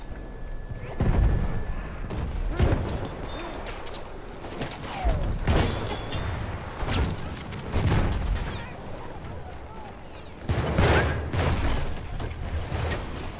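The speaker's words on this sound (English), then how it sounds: "They got the mortar on me now." Mortar shells explode during Battlefield 1 combat, a string of loud, heavy booms arriving irregularly about every second or two, some close together, over a low rumbling battlefield bed.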